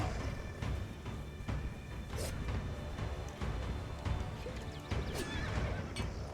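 A horse in the game Conan Exiles neighs and whinnies over clip-clopping hooves, with repeated calls standing out against a busy game soundscape and faint talk.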